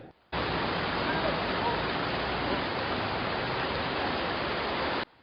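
A flooding Kau River in West Seram, Indonesia, where a stalled pickup was swept away, gives a loud, steady rushing roar that starts and stops abruptly.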